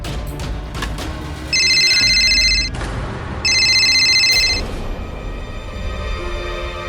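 A mobile phone ringtone sounds in two short bursts of electronic ringing, separated by a brief pause, over steady background noise.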